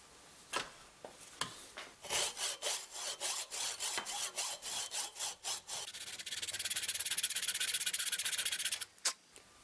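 A hacksaw cuts through the handle of an inexpensive Pittsburgh hatchet from Harbor Freight, making a run of steady back-and-forth rasping strokes up close that turn into a faster, continuous hiss near the end, with no voices.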